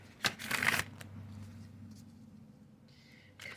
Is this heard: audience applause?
no